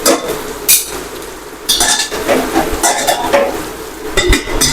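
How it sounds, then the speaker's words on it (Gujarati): Okra frying in oil in a pan while a spoon stirs it, scraping and clinking against the metal in irregular bursts over a soft background sizzle. "બસ આવી રીતે આપણે થોડી વાર હલાવતા રહેવું પડશે, જેથી કરીને હલવાઈમાં ચોટી ન જાય"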